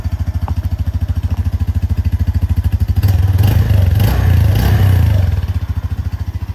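A Yamaha PG-1 motorcycle engine idles with a close, even, pulsing thump, briefly revving louder for a couple of seconds mid-way before settling back to idle.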